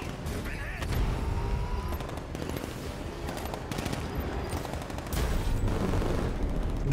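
Rapid bursts of automatic gunfire crackle and rattle through a Batman: Arkham Knight vehicle chase, loud and sustained over engine noise, with repeated volleys and occasional heavier booms.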